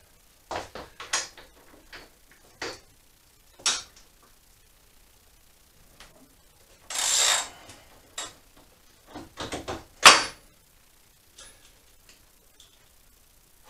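A ratchet loosening the front wheel spindle and fork clamps on a Honda CBR400 track bike, heard as scattered quiet clicks and short ratcheting bursts with pauses between them.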